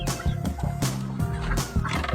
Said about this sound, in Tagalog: Tatlo tayong Peking duck.